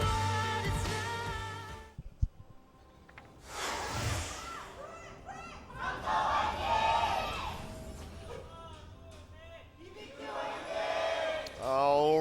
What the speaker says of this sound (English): Fans in the audience cheering for their favorite teams.